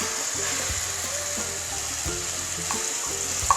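A steady, close sizzle of garlic and chili paste for garlic chutney frying in hot oil, with a few soft clinks of a utensil stirring in the pan.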